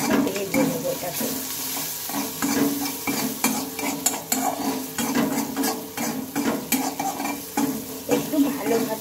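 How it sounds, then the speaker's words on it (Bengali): Spices with turmeric, salt, green chilli and ginger fry and are stirred in a pan for a boiled pointed-gourd chop, giving a steady sizzle with repeated scraping and clinking strokes close by. No one speaks. "একটু ভালোভাবে এটা ভেজে নেবো, মশলাটা একটু ভালোভাবে ভেজে নেবো।"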